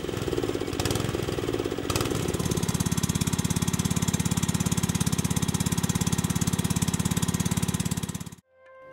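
A small engine drives an HTP sprayer pump with a steady, loud, rapidly pulsing drone that runs unbroken, then cuts off abruptly near the end, leaving silence.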